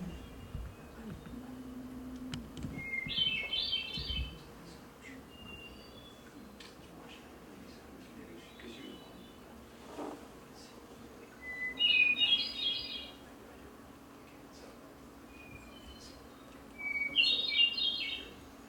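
Three bursts of high, thin bird song ring out at intervals over faint, quiet background noise.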